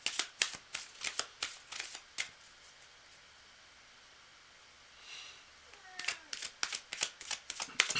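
Tarot cards are shuffled by hand in repeated quick riffling bursts, close and crisp, with a short lull midway before the brisk shuffling resumes.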